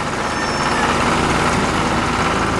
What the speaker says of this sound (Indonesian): Traktor merah.